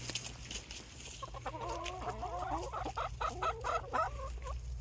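Pet hens cluck excitedly over chicken treats, a rapid run of close, fairly loud clucks and squawks rising after a quiet start and continuing in bursts to the end.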